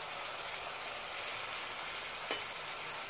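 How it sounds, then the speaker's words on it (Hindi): Tomatoes and green chilies frying in a pan for veg pulao, a dense steady sizzle and crackle throughout, close and even, with a faint scrape of stirring. "हम यहाँ पर ये टमाटर डाल दे रहे हैं और ये हरी मिर्च डालेंगे"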